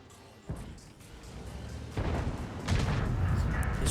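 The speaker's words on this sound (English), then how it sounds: "I think the Striv is shooting at him." Tank cannon fire in World of Tanks, with heavy booming shots and rumbling battle noise building over a few seconds, growing louder toward the end.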